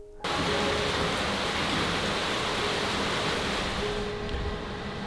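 Heavy rain falling steadily after a thunderstorm in Istanbul, a dense, continuous roar of downpour that stays loud and unbroken throughout with no voices.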